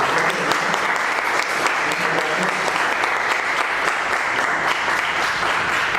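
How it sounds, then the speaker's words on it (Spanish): An audience at a medical lecture claps loudly and steadily, a dense wash of applause with no break, filling the room. "yo les pido por favor un aplauso."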